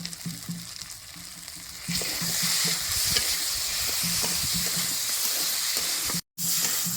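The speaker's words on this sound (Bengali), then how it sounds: "আলুটা এর মধ্যে দিয়ে দেবো দুই মিনিট নাড়ে চেড়ে ভালো করে কষাই নেবো" Potatoes sizzle and fry with spices in a pan for a village-style vegetarian curry with green banana. A spatula scrapes and stirs in a rhythmic pattern under a steady hiss that grows louder, then briefly cuts out.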